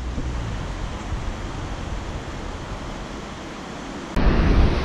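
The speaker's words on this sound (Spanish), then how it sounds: "por donde vemos que el agua pasa más desahogada" Swollen river water pours under a bridge in Valladolid after storm Fabien, giving a loud, constant broadband roar. Near the end a sudden jump makes it even louder.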